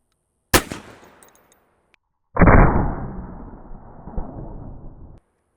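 A Maynard breech-loading rifle fires a single live shot, a sharp loud crack that dies away, followed moments later by a second heavy burst with a long rumbling decay, set in an open outdoor test-firing range.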